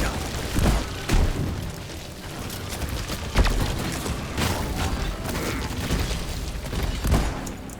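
Shotgun blasts in Deep Rock Galactic: several loud, punchy shots at irregular intervals over a dense, busy game mix of continuous action noise.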